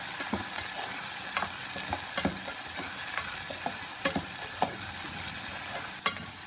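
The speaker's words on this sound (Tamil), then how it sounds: "இப்போ வந்து வெங்காயம், பூண்டு, தக்காளி நல்லா வதங்கிடுச்சு." Onion, garlic and tomato sautéing in a pan for ennai kathirikai, a steady close-up sizzle and crackle broken by frequent stirring clinks and scrapes, with no talk.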